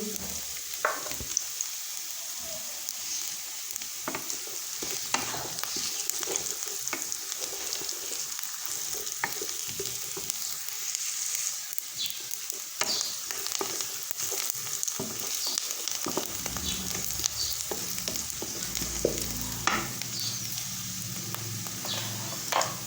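Turmeric powder and red chili powder sizzling and frying in a pan while being stirred, a continuous close crackle with scraping stirs throughout.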